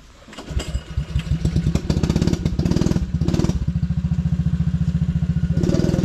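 A small engine sputters and struggles to catch, then fires into a rapid, loud, rattling idle that keeps running steadily.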